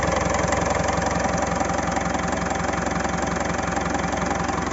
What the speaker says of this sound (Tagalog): Ito yung Montero na palyado.